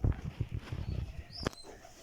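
Pigeons in a room give low, throaty coos in a quick pulsing series up close, followed by a brief sharp click and a faint higher chirp as the rumbling dies down.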